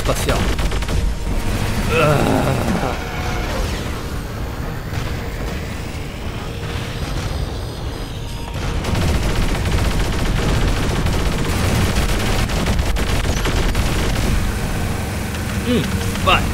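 Space-shot weapon fire from the PC game War Robots comes in repeated blasts and booming bursts over a dense, continuous layer of battle noise and machinery.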